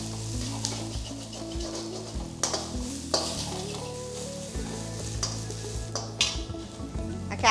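Sliced carrot is sautéed in a pan for Asian-style chicken noodles: close, continuous sizzling broken by repeated stirring scrapes and clinks of a utensil against the pan.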